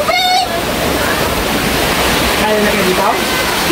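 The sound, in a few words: rushing floodwater during typhoon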